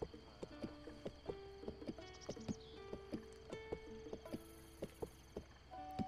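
Horse hooves clip-clopping in Zelda: Breath of the Wild, a steady rhythmic trot of crisp, evenly spaced hoofbeats, fairly quiet and without talk.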